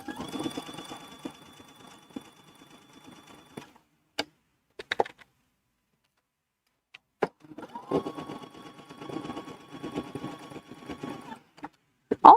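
Sewing machine with a twin needle on the stretch setting hems a T-shirt in two close, steady bursts of rapid stitching separated by a quiet pause, with a few clicks of the machine and fabric handling between them.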